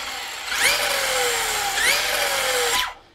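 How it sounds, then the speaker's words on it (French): The cooling fan whirs steadily on a Reely New1 RC car fitted with a 3000 kV brushless motor. A close, high-pitched whine swells and sags twice, then cuts off at the end. "Il y a juste le ventilo qui fait un peu de bruit."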